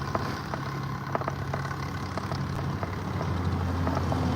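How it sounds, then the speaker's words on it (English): A vintage tractor engine idles at a distance, a faint steady low rumble with light ticking, no voices present. "A vintage tractor."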